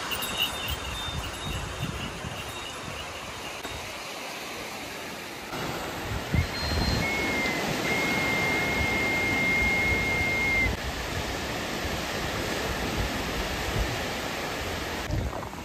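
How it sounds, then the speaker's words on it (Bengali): Sea waves roll and break along the beach at Digha, a broad continuous wash of surf, fairly loud and steady with slight swells, no talking heard. "পিছনে একটা বড় ঢেউ আছে, এই ঢেউটাই সব থেকে বড় ঢেউ দেখলাম।"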